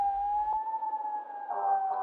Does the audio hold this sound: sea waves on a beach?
no